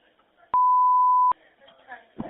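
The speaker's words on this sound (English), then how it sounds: "there's this loud beep" A single loud, steady censor beep of just under a second cuts in sharply over a 911 call, with faint phone-line voices before and after it.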